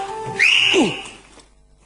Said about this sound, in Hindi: इतने जोर से सीटी बजाओगी ना पूरे खानदान को पता चल जाएगा।